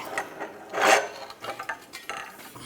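A screw jack scraping and dragging over the ground beneath a 2011-2018 Ram 1500 during a rear lower control arm job, a close gritty rasp with one louder sliding burst and scattered lighter scrapes.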